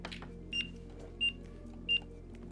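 Three short, evenly spaced electronic beeps from an exoskeleton sound over a low steady hum.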